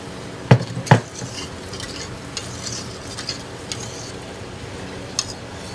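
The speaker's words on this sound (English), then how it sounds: "It is at a rolling boil that cannot be stirred down." Grape juice, sugar and pectin bubble at a hard rolling boil for jelly, a dense crackling simmer close by, with a couple of sharp utensil knocks against the pot near the start.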